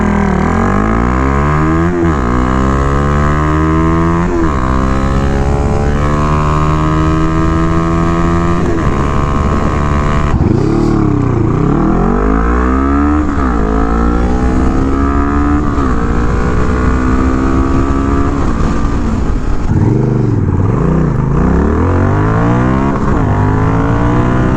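Honda Rebel motorcycles, the 300, 500 and 1100, accelerating hard on a closed course, loud engines climbing through the gears in repeated sweeping rises with brief drops at each shift, close and continuous.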